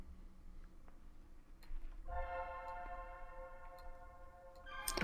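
A quiet, sustained chord pad from a one-shot kit swells in midway and holds steadily, faint and buried among soft ticking clicks.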